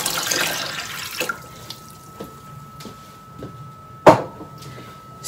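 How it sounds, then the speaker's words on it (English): A brief splash of water runs in at the start, followed by quiet drips and small knocks, with one louder clunk near the end. "So I'll be mixing it with my cold water."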